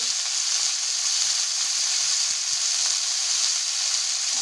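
Mixed vegetables such as radish and pumpkin frying in a pan for sambar give a steady, close, even sizzle with faint stirring clicks throughout, and no one speaks.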